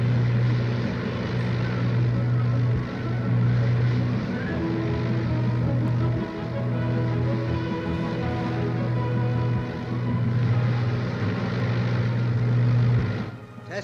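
Twin engines of a de Havilland Mosquito aircraft running during testing, a loud, steady droning hum with a strong low throb that swells slightly at intervals and holds close and continuous throughout.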